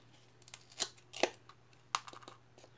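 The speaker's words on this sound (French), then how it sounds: "Non, je crois qu'avec les ciseaux, ça marcherait mieux." Scissors snip through craft material for a shabby-style lantern, a few sharp, irregular cuts close by with quiet pauses between them, no talking.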